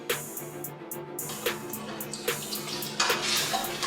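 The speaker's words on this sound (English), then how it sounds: "So we're gonna take 2 cups of my favorite vegetable broth." Vegetable broth is poured into a cooking pot in a kitchen, a steady liquid splash with a few light clinks of cookware, close and moderately quiet.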